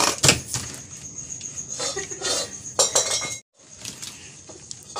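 Dishes and steel utensils are being scrubbed and washed by hand, with clattering clinks and scraping in quick irregular bursts, a brief pause, then more close-up clanking.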